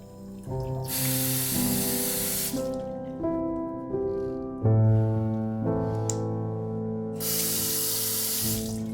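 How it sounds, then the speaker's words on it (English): A Nasoni fountain faucet sprays a gentle water stream, with bursts of soft hiss near the start and again near the end, over steady background music. "Easily rinse makeup or shaving cream with a gentle fountain stream."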